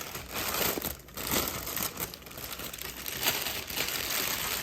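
Plastic bag wrap from a Ninja Foodi pressure cooker box crinkles and rustles continuously up close, with uneven bursts of crackling handling.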